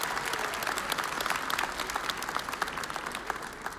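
Steady audience applause fills a pageant hall at the Miss Indian World 2019 event in Albuquerque, dense clapping from a crowd heard at moderate distance, with almost no talk over it.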